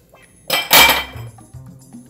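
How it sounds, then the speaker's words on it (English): A giant block ice cube drops into a whiskey sour glass with a sharp, loud clunk and clink, then a short rattle as it settles, followed by faint low knocks. "And now I have my ice in my glass."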